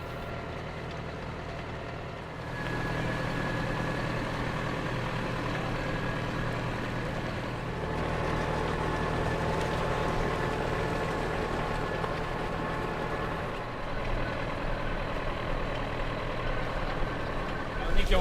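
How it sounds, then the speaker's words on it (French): Farm tractor on a ride around a farm at Saint-Alphonse, its engine droning steadily and fairly loud for the whole stretch, with a low rumble that shifts slightly in pitch as it runs. "Notre journée débuta par un tour de tracteur à la ferme Belgimag située à Saint-Alphonse."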